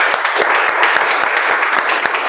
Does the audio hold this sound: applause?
yes